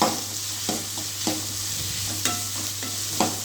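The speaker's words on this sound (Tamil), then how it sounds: "தக்காளி வதங்கிறது கொஞ்சம் உப்பு சேர்த்துப்போம்." Tomatoes sauté in a pan for chicken gravy, giving a steady close sizzle and fry hiss with a low hum underneath, punctuated by several sharp scraping stirs of a spoon against the pan.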